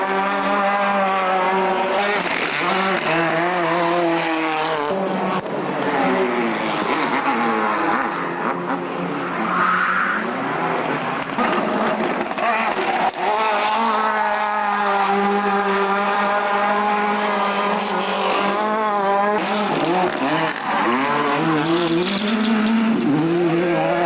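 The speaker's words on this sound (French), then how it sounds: "Bruno pilote la Ford Escort WRC" A Ford Escort WRC rally car driven hard on a rally stage, its engine loud and revving continuously with repeated rises and drops through the gears, staying close and dominant throughout.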